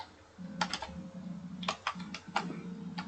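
Clicky keystrokes on a computer keyboard come in short bursts of typing over a steady low hum, as data is entered into an Excel spreadsheet.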